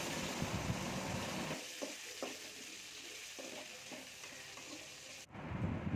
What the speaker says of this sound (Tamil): அது கூட தக்காளியும் சேர்த்து போட்டு நல்லா வதக்கிக்கோங்க.